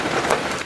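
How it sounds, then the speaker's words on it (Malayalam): Heavy rain pours down at night near Cheenivala, a steady, dense roar of drops beating on surfaces throughout, loud and close with no voices. "മഴ കേട്ടാ"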